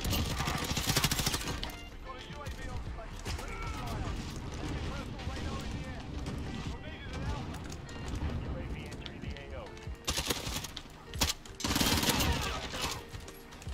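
Galil rifle fire and battle noise in Call of Duty: Modern Warfare, a dense, continuous roar of shots and blasts at steady loudness, with a sharper surge of firing near the end.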